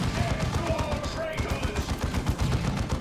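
Kraken bolt gunfire from Stone Guard veterans in Warhammer 40,000: Dawn of War 2, rapid repeated shots rattling in a dense, continuous volley amid battle noise, with a commentator's voice underneath.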